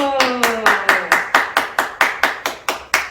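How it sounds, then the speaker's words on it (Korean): About a dozen sharp, evenly spaced hand claps ring out at a line dance class held at a welfare centre for deaf people. They keep a brisk steady beat, and a brief voice is heard at the very start. "박수!"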